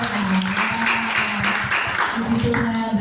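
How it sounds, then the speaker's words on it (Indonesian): A church congregation applauds in a short, steady round of clapping, with voices talking over the applause throughout. "Tepuk tangan dong buat Bapak Ibu."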